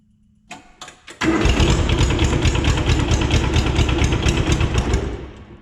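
A Cub Cadet 128 diesel garden tractor engine cranks with a few short turns, then catches and settles into a loud, steady, rough idle close by, fading slightly at the end.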